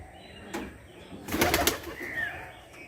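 Pigeons on a pigeon farm give faint, soft coos, with a brief burst of wing flapping and rustling in the middle, heard close in a quiet space.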